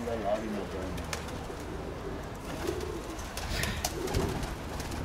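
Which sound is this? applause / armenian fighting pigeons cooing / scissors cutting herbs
armenian fighting pigeons cooing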